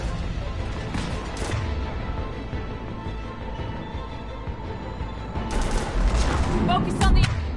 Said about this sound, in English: Aria, the cannons have to be armed manually.